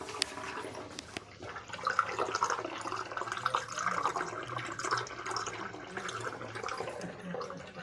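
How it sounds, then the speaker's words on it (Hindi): Hot spring water runs steadily out of a dry, rocky mountainside in Oman, a continuous splashing trickle heard close up with no voices. "मैं तुहानू आवाज़ सुनाना जड़ी पहाड़ चों इस चो पानी दी आ रही है"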